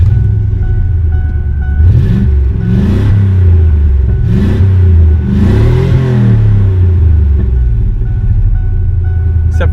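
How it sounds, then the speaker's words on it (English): A Ford Ranger pickup swapped with a 5.0 V8 and an exhaust leak idles with a deep burble, then is revved several times in loud, rising and falling bursts, close and without talk. "This is how a Ranger should sound when it starts."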